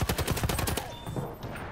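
Rapid automatic gunfire in the video game Battlefield 1, a loud burst of evenly spaced shots lasting under a second, then fading into quieter game ambience.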